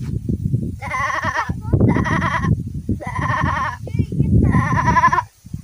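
A voice imitates a goat, giving four drawn-out bleats in a row, each loud, close and wavering.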